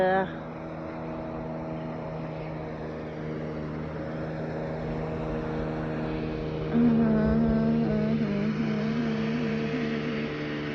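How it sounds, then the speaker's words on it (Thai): A motorboat engine drones steadily on the water, its pitch rising slightly as the boat passes close by, while someone talks over it. "มีเรือนะคะ เห็นไหม เรือ"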